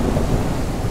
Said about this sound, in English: The lighting on this storm is incredible.